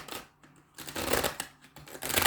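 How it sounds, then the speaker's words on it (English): Tarot cards from a Moonology oracle deck are shuffled by hand, close crisp riffling bursts in three or four rapid rounds separated by brief pauses, with no talking. "One more shuffle."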